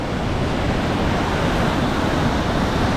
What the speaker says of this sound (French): Là on a de la grosse cascade là,